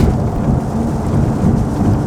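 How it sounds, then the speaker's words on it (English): Heavy rain drumming on a car driving along a Florida highway, a loud dense continuous roar with deep rumbling underneath, steady throughout without talk. "And look at this rain just out of nowhere."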